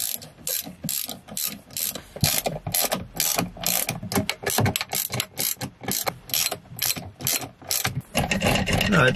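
A hand ratchet clicks in quick bursts while screwing a part onto a Lexus IS300 during a manual transmission swap, a dry pawl clatter that repeats in short rhythmic strokes, close and fairly quiet, with no talking.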